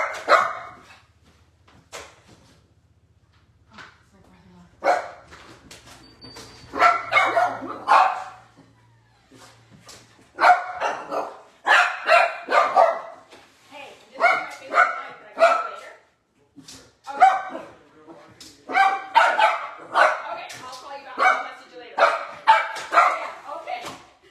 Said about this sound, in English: Everyone is barking.